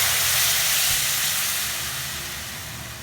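Tamarind water poured into a hot pan of curry sizzles and hisses loudly, a steady frying hiss that gradually eases.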